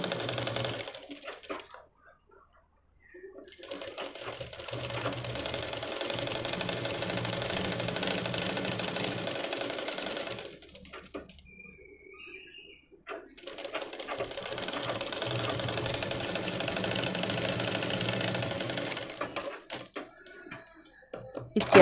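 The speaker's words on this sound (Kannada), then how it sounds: "ಎಲ್ಲ ಆದಮೇಲೆ ಜಿಗ್ಜಾಗ್ ಮಾಡಿ, ಎಡ್ಜು ಜಿಗ್ಜಾಗ್ ಮಾಡಿ" Sewing machine running a zigzag stitch along a fabric edge while making an umbrella dress, two long steady bursts of rapid mechanical whirring separated by pauses with a brief voice heard in the quiet stretches.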